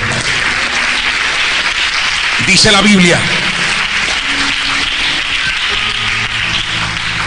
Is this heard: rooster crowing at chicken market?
no